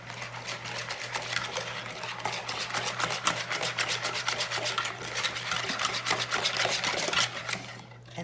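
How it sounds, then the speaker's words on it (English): Ingredients for a honey quinoa salad dressing are whisked together in a bowl with fast, rhythmic scraping strokes, steady and close for about eight seconds, with no voices. "I'm going to whisk that together."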